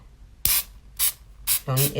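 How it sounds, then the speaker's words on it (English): Four short hissing bursts from a spray can of adhesive applied to vinyl, close and loud, the last one overlapping a brief voice. "you spray that on there"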